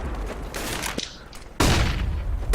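Bursts of gunfire in a Counter-Strike match, a Navi versus Mousesports esports game, with a loud shot near the one-second mark and dense firing crashing in and sustaining from midway to the end.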